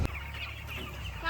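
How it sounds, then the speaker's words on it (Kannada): Hens cluck softly at a poultry farm, a faint, close chatter of fowl with no speech over it. "ಹಕ್ಕಿಗಳು ಆರ್ತಿದಾವೆ ಹಿಂದೆಗಡೆ"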